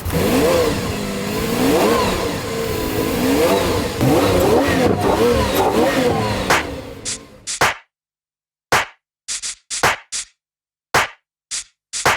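An Italian Lamborghini sports car at a state auction revs its engine in a long, loud, sustained roar, then cuts to silence broken by several sharp, short throttle blips.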